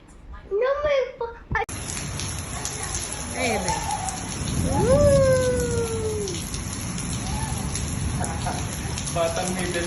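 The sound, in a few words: rain falling in the desert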